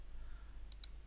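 Two quick, close computer mouse clicks land near the end, crisp and light over a low steady hum.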